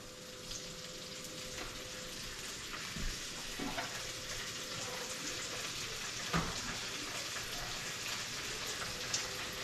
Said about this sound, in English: I'm going to crush these in here by hand